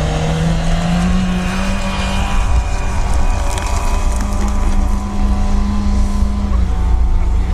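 A 4x4 off-road car, with a Lada Niva among the vehicles, climbs a slope under a loud sustained engine drone, the pitch holding steady as the throttle stays open, close to the microphone with no talk.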